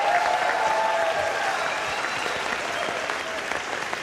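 Applause and cheering from a small-town audience at a spelling bee, a dense burst of clapping that fills the whole moment at close range and tapers only slightly toward the end.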